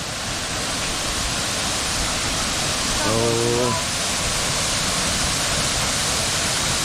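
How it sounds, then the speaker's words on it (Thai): Song Khwae waterfall rushing, a loud, dense, unbroken roar of falling water filling the whole scene, with a man briefly exclaiming over it partway through. "ตามมาดูน้ำตกครับ"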